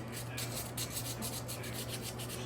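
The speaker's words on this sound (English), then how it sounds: "I think this is a 400 grit sandpaper." Fine 400 grit sandpaper rubbed over the copper linings of a 1961-2004 Schrade Old Timer pocket knife, a steady close scratchy rasp with rhythmic strokes and no talking.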